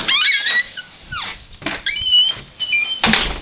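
A puppy in a secure outdoor baby pen gives a run of high, thin whimpers and squeaks, several short bursts with brief pauses between them, close and fairly loud with no talk over them.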